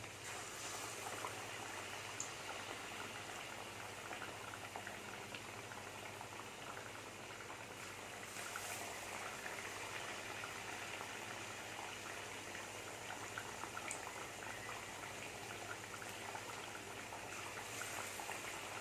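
Batter-coated ripe Nendran banana bajji fry in hot oil kept at medium heat, giving a soft, steady bubbling sizzle that runs evenly throughout with no voices.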